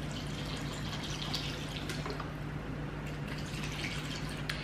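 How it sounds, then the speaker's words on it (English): Cold water poured into a blender while making a smoothie, a steady faint trickling and filling that runs evenly throughout with a low hum beneath. "now I'm going in with cold water"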